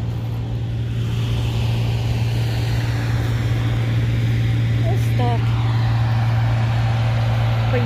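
Combine harvester working a wheat field droning steadily with a strong constant hum and engine rumble at close range as it drives on.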